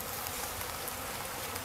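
Honey bees at a bee yard hum in a steady, close, dense buzz that stays even throughout the short stretch, with no talk.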